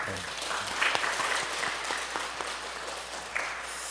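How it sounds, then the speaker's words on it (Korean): A Korean church congregation at a Sunday morning service gives a brief round of applause, a soft, even patter of many hands lasting about four seconds. "우리 박수 한번 쳐드릴까요?"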